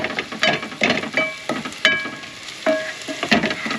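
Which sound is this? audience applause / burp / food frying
food frying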